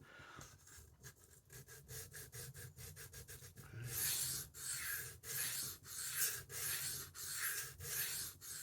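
A blade is being sharpened on a 1000 grit stone, giving steady rasping strokes at close range, with quick short scrapes at first and then longer, slower, louder passes.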